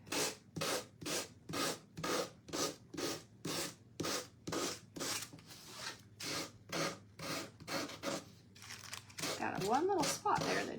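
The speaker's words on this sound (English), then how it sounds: "your little gator sander will work great for the outside" A small Gator power sander works tissue paper off the outside of a Dollar Tree pumpkin craft, giving a close, rhythmic run of short rasping strokes about twice a second, with a voice briefly heard near the end.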